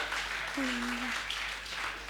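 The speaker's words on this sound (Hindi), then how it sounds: "तालियां बजा दीजिए, बहुत आनंद है।" Audience applause breaks out at a gathering, a broad wash of clapping that holds steady throughout with a brief vocal tone rising over it.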